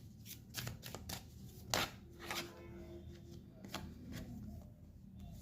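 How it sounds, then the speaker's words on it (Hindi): Tarot cards are handled and shuffled close by, quick papery riffles and soft slaps in uneven bursts, with a faint low hum underneath and no talking. "कुछ कार्ड्स और ले लेते हैं।"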